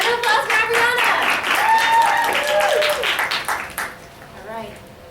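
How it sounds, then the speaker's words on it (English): Applause from a group of people fills the room at a school impromptu speech contest, steady clapping that fades out after a few seconds while voices speak over it. "Round of applause for Ariana."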